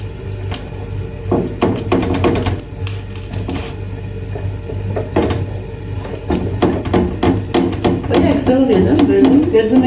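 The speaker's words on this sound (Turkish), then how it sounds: "Şöyle yavaş yavaş kızartın." Food frying slowly in a pan in a home kitchen during breakfast preparation, with a steady loud sizzle, utensil scrapes and stirring clatter, and a low hum underneath.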